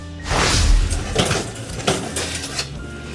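A pan of baby back ribs slides into a 275-degree oven with a loud metallic clank, followed by several lighter clatters and knocks of metal on metal.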